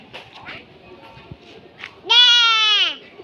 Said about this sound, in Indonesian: Itu kambing, Gesan. Itu anak kambing